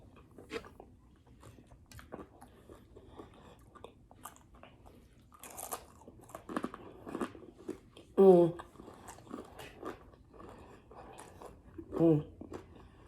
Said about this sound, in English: I don't even know if y'all can hear the crunch from the bacon